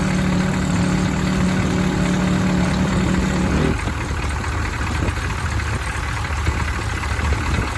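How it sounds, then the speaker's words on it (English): A car engine, back running after sitting unused since 2022, idles smoothly and steadily with an even, low rumble, close by and without any voices. "this engine runs better than the one I drive every day"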